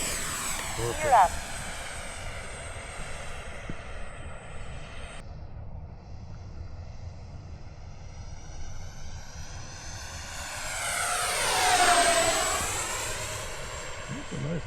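Freewing F-14D Tomcat RC jet airplane with a ducted-fan whine flying overhead at an outdoor field, whining steadily then swelling and sweeping in pitch as it passes close, with people talking.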